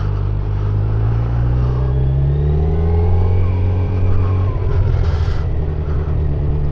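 A 2025 Kawasaki Z900 motorcycle engine drones steadily while cruising, a loud continuous low hum with rising pitch shifts as it accelerates, plus wind rush and no talking.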